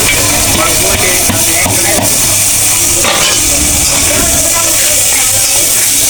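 Washed chana dal tipped into a pan of frying chicken masala, setting off a loud, continuous sizzle and hiss with a few clattering knocks from stirring.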